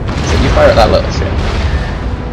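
Deep booming cannon fire from a naval battle in Empire: Total War, dull rumbling blasts layered with a voice talking over the game audio.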